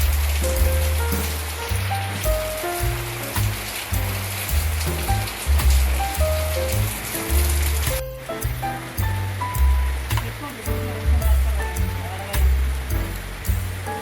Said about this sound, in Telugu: వర్షం బాగా పడుతుంది ఇక్కడ